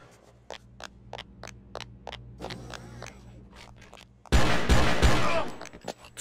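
A series of sharp video game gunshots fires in a steady rhythm, then a loud burst of heavy, dense gunfire erupts and dominates the end.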